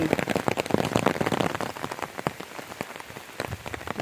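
Rain falls in a green village, with a close, steady patter punctuated by sharp individual drops striking a surface, loud and unbroken.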